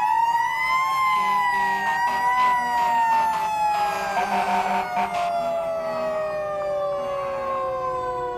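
A loud Federal electric fire engine siren wails steadily at a St. Patrick's parade, its pitch sliding slowly downward over several seconds, with a crowd murmuring faintly underneath.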